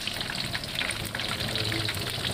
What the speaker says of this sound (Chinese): 风干后的鲫鱼表皮变硬，倒入油锅，油炸声瞬间奏响了起来。